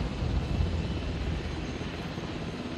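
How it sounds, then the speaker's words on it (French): Helicopter arriving in the dinosaur park game Jurassic World Evolution: a steady rotor and engine drone, loud and continuous with no talk over it. "l'hélicoptère est là"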